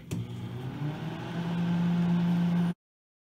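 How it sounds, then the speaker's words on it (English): A microwave oven hums with popcorn in a bag inside, a steady drone that grows a little louder before cutting off abruptly, with no audible popping. "give this about 2 minutes in the microwave, see what happens"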